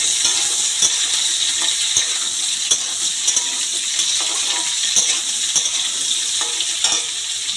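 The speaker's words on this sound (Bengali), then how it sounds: "এবারে এই সজনে ডাঁটা আলু আমি তেলের ওপরে দিয়ে দিলাম। এবার এটাকে ভাজবো।" Drumstick pieces and potato frying in hot oil with cumin seeds, a steady bright sizzle with intermittent clicks and taps from stirring, no voices.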